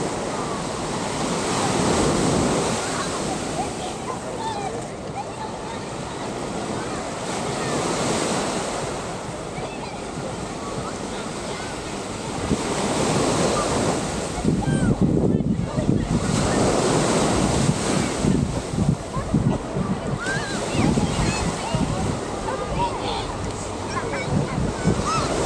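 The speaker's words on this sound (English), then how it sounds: "clam up so you can hear the waves, chat." Ocean surf rolls onto Waikiki Beach in Hawaii, a steady loud wash of breaking waves with wind buffeting the microphone and faint voices in the background.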